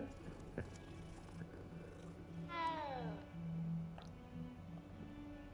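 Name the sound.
cat meowing in video game Hogwarts Legacy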